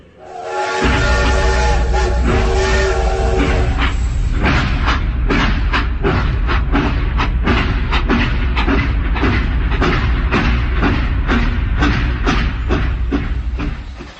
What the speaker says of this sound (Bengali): চলতে শুরু করে ট্রেন।